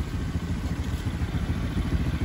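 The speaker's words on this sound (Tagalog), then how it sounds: "umaandar ang motor" A Rusi Smart 110 motorcycle engine runs steadily up close, a low, even mechanical throb with a faint clatter that holds throughout.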